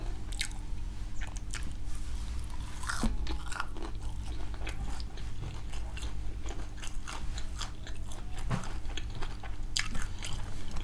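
Crispy fried chicken being bitten and chewed up close, with crunchy bites standing out as sharp crackles over a steady wet chewing texture, no talking.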